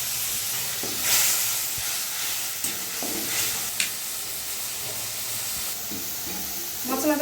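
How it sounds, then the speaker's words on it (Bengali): Tomato-onion spice paste with turmeric frying in a pan, a steady close sizzle and hiss with occasional scraping stirs, no talk. "মশলাটা আমি ভালো করে কষিয়ে নেব।"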